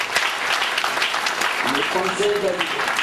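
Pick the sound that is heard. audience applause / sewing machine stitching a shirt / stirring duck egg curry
audience applause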